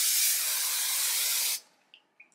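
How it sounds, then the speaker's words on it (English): A steady, loud hair holding spray hisses continuously from an aerosol can for about a second and a half, then stops abruptly, followed by a couple of faint small clicks. "whatever holding spray I have on hand"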